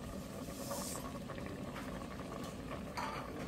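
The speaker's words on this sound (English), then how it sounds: "in this pot, I have 2 large cans of sliced peaches cooking in heavy syrup, drained" Two large cans of drained sliced peaches simmer in heavy syrup in a pot, a soft steady bubbling and gentle popping, close and alone.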